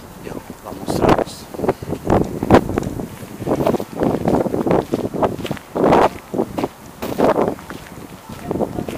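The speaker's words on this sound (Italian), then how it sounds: "il ha un vento abbastanza forte e vos non audire lo che io dice" Strong wind buffets the microphone atop a tower in Gothenburg, coming in loud, irregular gusts and roars while someone speaks intermittently beneath it.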